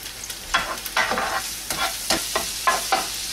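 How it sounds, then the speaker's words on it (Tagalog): Garlic fries in hot oil in a frying pan, a soft sizzle under a series of regular scraping stirs from a utensil, about six strokes in quick rhythm, close and with no talking. "ilagay lang natin yung garlic. I-fry lang natin hanggang maging golden brown."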